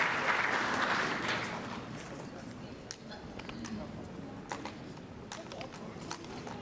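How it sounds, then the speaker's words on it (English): A church congregation at Southeast Christian Church claps, loud at first and then thinning to a softer, scattered patter with a few sharp individual claps standing out near the end. "Let's clap for them because they did an amazing thing supporting this project."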